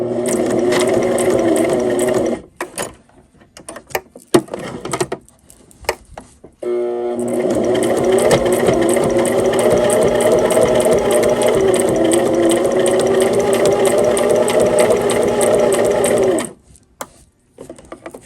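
A sewing machine stitches a simple fabric pot holder in two long, fast whirring runs, loud and close, separated by a pause filled with clicks and handling noise, with no talking.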